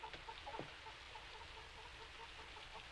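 Hens clucking in a farmyard coop, a few soft, scattered clucks over a steady low background hum, fairly faint and without talk.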